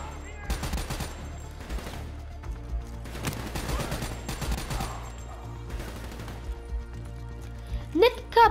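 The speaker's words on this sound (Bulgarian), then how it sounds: "Има много стрелба в тази мисия, ама не с гранати" Steady bursts of gunfire in Call of Duty: Black Ops III, volleys of rapid shots over a constant low game rumble, with someone talking at times throughout.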